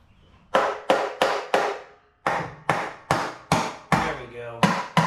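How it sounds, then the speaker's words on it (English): Rubber hammer knocking at a stuck part on a rescued Ford Courier pickup, roughly ten loud, close strikes in uneven bursts with short ringing decays and a brief pause partway through. "I got a rubber hammer somewhere."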